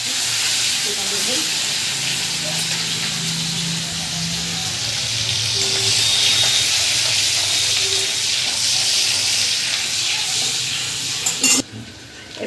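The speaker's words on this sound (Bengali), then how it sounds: "এবার আমি ওই তেলের মধ্যেই এই রসুন আর কাঁচা লঙ্কা থেতো করে রেখেছি এটা দেবো" Crushed garlic and green chillies go into hot oil left over from frying chicken, raising a steady, broad hiss that holds loud and even for most of the stretch and then cuts off near the end.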